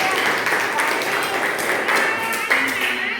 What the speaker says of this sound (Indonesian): Kasih tepuk tangan lagi dong